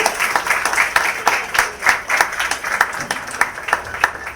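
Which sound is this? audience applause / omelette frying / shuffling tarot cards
audience applause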